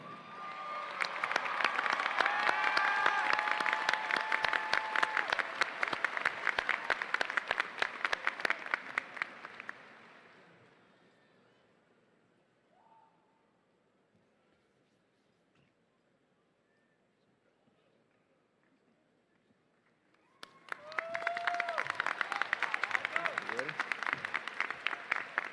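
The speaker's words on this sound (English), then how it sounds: "please give them a round of applause" A large audience at a 2024 high school graduation ceremony bursts into sustained applause that fades out after about ten seconds, then a near-silent pause, before another loud wave of clapping rises abruptly.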